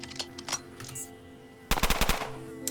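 Automatic gunfire in the turn-based video game Underrail, with a few scattered shots followed by a loud, rapid burst of rounds near the end.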